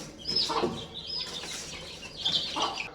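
Kadaknath chickens cluck nearby alongside high peeping chicks, with a brief flutter of wings; no talking.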